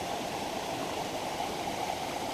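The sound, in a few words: flowing stream water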